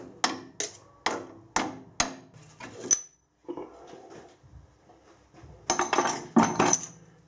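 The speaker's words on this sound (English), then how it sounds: "put a transfer punch mark through there" Sharp metallic hammer strikes on a transfer punch marking metal ring out in a steady series of about six blows, followed by quieter clinks and a few more bright taps.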